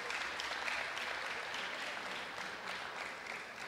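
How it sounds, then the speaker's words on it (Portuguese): Audience clapping inside a church, a steady, fairly faint wash of applause from many hands with no distinct voices. "Vamos aplaudir."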